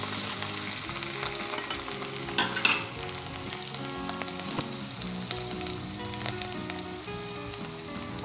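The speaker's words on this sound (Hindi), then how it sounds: "दोस्तों इसे हमने फ्राई करना है 1 से 2 मिनट के लिए।" Carrots and chicken stir-frying in a pan for a Pakistani-style dish, with a steady close sizzle and crackle, occasional stirring clinks and scrapes, and a brief louder burst of hissing partway through.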